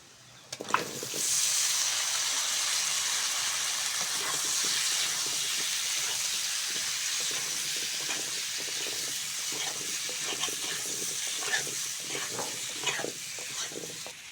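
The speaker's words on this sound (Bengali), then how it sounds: "আলু আর কুমড়োটা ভালো করে ভেজে নিয়েছি" Pumpkin and potato chunks fry in a pan with onions for a prawn curry, a loud continuous sizzle and hiss that starts sharply and holds, with occasional stirring clicks and scrapes.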